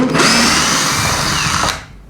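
A power drill whirs loudly and steadily as it backs a screw out, a continuous high motor whine that holds for about a second and a half before spinning down.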